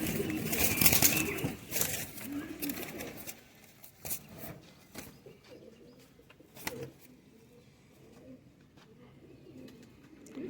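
Kabuli high-flyer pigeons coo softly in a loft, low murmuring calls rising and falling amid bursts of wing flapping and handling rustle, louder early on and fading to quieter cooing later.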